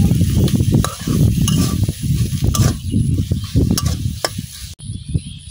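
Taro stems cooked with prawns are stirred in a frying pan, giving a steady close scraping and sizzling with sharp clanks of the spatula against the pan.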